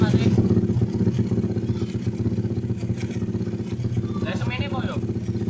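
A Yamaha Jupiter MX motorcycle fitted with a PE 26 carburetor idles and revs in a steady, throbbing drone that holds throughout, with someone talking over it.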